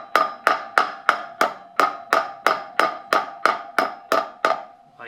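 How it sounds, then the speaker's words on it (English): A new wheel bearing is hammered into a KLR 650 motorcycle hub with about a dozen evenly spaced, sharp metallic strikes, each ringing briefly, close and loud. "just be careful and kind of start hitting around the outside edge."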